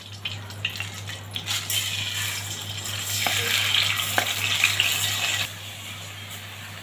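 Rice stirred through hot oil and ghee in a pan gives a steady, close sizzle and frying hiss with scraping stir sounds, growing a little louder midway and then easing off near the end.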